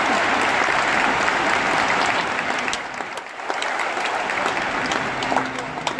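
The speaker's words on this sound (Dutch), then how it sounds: "Nog eenmaal een warm applaus" An audience applauds warmly at a performance of riding and horsemanship, with sustained dense clapping that dips briefly in the middle and then picks back up.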